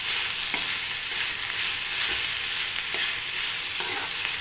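Onions sautéing in a pan for a cowpea-greens (chauli) bhaji, a steady close sizzle with repeated scraping stirs throughout and no talking.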